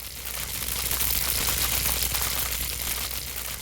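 A crackling, jagged electric zap from a redesigned Skyrim shock destruction spell, with a round, rumbling low end, sustained and erratic for a few seconds.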